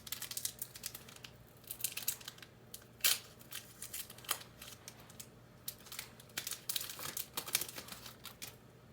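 A Pokémon Darkness Ablaze card booster pack is torn open and handled. Faint crinkling foil and sharp ripping bursts come close by in irregular spurts against a quiet room, with no talk.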